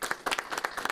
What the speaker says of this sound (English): Can we give our fire department one more round of applause,